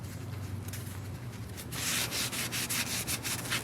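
Cloth rubs and wipes against the axle of a 1965 VW Beetle to clear off silicone, a soft scratchy scrubbing that grows louder and more rhythmic halfway through, close up with no talking.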